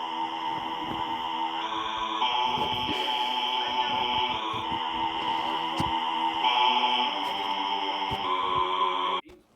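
Jevin's phase 1 sound from the video game Sprunki: a steady layered electronic tone with sustained humming harmonics and small rhythmic clicks, holding for about nine seconds before cutting off abruptly, no voices.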